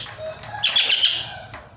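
A caged tengkek, a small kingfisher, gives a brief shrill burst of calling mixed with a quick flutter of wings, close by and otherwise quiet.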